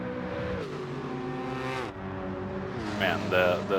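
Hyundai Elantra race car in Gran Turismo 7, its exhaust note droning and rising with gear changes, a brief lift near the middle before the revs climb again, with a voice talking over the top near the end.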